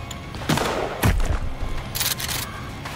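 Gunshots ring out in the Sons Of The Forest survival game during a final boss fight, several sharp close bursts spaced irregularly over a few seconds with a faint rumbling background and no speech.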